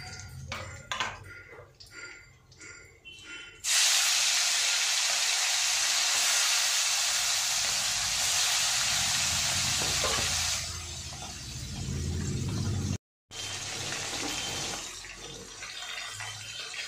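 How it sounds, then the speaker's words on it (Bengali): Pomfret fish fry in hot oil with a loud, continuous hiss and sizzle, preceded by a few clinks and soft handling noises and easing to a quieter sizzle near the end. "দেখো এইভাবে আমি সব মাছগুলোকে ভেজে নেব।"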